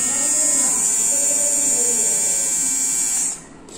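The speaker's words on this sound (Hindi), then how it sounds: "आप ट्रिमर की आवाज सुन सकते हैं" A Daling DL 1216 hair trimmer runs with a steady, close, high-pitched electric buzz, holding even for several seconds before it switches off abruptly near the end.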